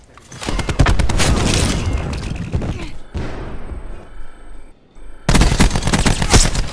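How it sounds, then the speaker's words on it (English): Rapid gunfire and clustered grenade blasts in Black Ops 4: dense, loud bursts of shots and booms, a brief quieter lull in the middle, then another heavy volley of fire. "Cluster grenade going out."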